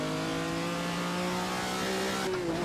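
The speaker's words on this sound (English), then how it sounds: "you can hear that thing, it really does sound like a lovely vintage V12" A rare vintage V12 supercar of about 300 horsepower driving around the Nürburgring, its engine holding a steady smooth drone that rises slightly in pitch near the end, heard from inside or close by.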